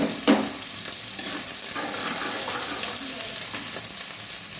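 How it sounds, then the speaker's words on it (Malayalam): Onions and green chillies stirred while frying in a pan, a steady broad sizzle with scraping stir strokes throughout, close and fairly loud. "നന്നായിട്ട് നമുക്കൊന്ന് ഇളക്കി കൊടുക്കാം"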